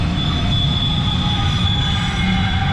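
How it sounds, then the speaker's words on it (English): Long freight train rolling past nearby, a steady loud rumble with sustained high wheel squeal ringing over it throughout, no voices. "Got the trains going again today. Man, that's a lot of these trains are getting longer and longer."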